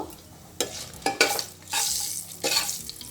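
Panch phoron and dry red chillies fry in hot oil in a pan, giving a steady close sizzle punctuated by several sharp scraping stirs of a spatula.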